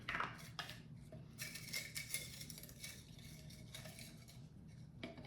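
A utensil stirs ground cloves and cinnamon in a pot, making quiet metallic scrapes and clinks in irregular bursts. The sound is close but faint, with no voices.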